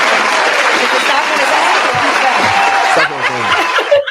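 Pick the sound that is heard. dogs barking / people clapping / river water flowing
people clapping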